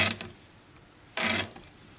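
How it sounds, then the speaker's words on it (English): Scraping strokes along a guitar's frets to clear grime pushed against them, two short rasping bursts, the second longer and louder, with quiet pauses between. "then I go back along every fret and clean up all the junk that gets pushed up against the"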